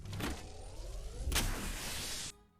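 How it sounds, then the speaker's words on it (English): Healing effect from the video game Apex Legends: a steady, airy mechanical whir with a brief swell midway, holding for about two seconds before cutting off, heard alone. "Healing occurring around you."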